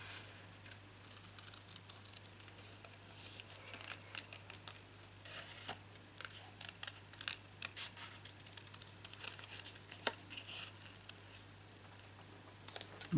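Scissors snip through paper for a handmade birthday card in a run of small, irregular crisp clicks and cuts, faint and close, over a low electrical hum with no talking.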